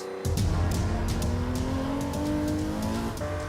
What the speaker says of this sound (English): The 5-litre 12-cylinder engine produces 621 horsepower